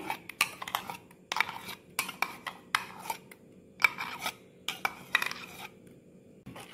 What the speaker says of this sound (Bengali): এবার আমি ছাঁকনি দিয়ে ছেঁকে নেব খুব ভালো করে।